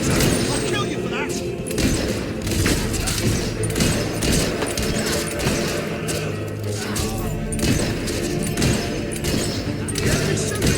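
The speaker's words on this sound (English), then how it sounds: "The enemy's shooting at us!" Rapid, dense battle gunfire crackles throughout a fight in Fable III's revolution, a sustained fusillade of rifle shots and thuds mixed with shouting voices and game music, loud and continuous.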